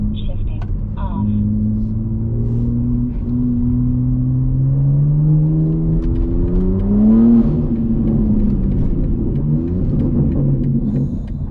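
A BMW G80 M3 engine revs and drones steadily through gear shifts while driving in busy city traffic, its pitch climbing and falling, loud and close throughout.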